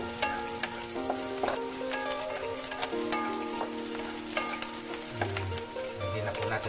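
Sliced sponge gourd (patola) sizzles steadily in a pan over sautéed golden-brown onion and garlic, a continuous close frying hiss with occasional stirring clicks and scrapes, no talking.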